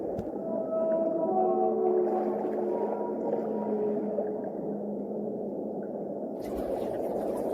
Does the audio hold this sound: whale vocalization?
yes